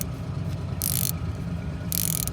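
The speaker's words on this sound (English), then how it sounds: "this is exactly why this little wrench right here is amazing" A small ratchet wrench clicks in two quick bursts while bleeding the brake lines on an Infiniti M37x, and its rapid pawl ticking stands out over a low mechanical background with no speech.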